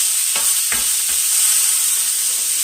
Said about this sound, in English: I'm just going to saute that real good